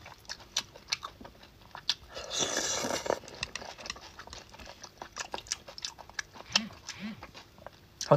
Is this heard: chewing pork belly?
yes